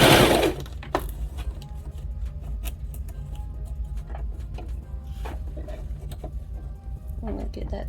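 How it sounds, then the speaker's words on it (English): A sewing machine stitches straight across the lining of a make-up bag, a soft steady mechanical whir running throughout at close range after a brief louder rustle at the start. "You're gonna lower your needle and sew straight across."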